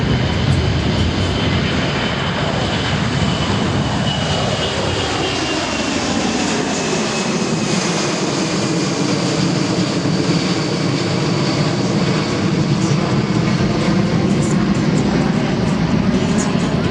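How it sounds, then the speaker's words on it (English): A loud, roaring C-17 military transport jet engine rumbles continuously, with a sweeping rising and falling whine as the plane climbs steeply away overhead after takeoff at an air show. "Impressive for a big airplane like that."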